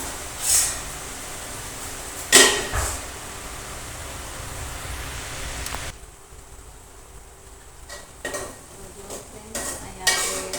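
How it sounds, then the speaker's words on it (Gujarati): Onions and potatoes frying in a pan for poha, a steady sizzle with a few sharp scrapes and clinks of the stirring spoon against the pan, fairly close and without talk. "થોડી વાર તેને હલાવતા રહીશું."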